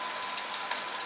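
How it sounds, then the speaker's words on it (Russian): Fish steaks fry in a pan for a home-cooked lunch, a steady close sizzle with dense crackling and occasional louder pops, continuous and alone without any talking. "у нас, значит, жарится рыбка"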